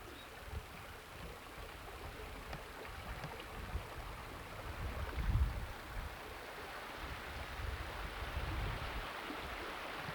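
Crocker Creek on a ranch flowing outdoors, a continuous broadband rush of water with low rumbling swells, steady and moderately faint, with no voices.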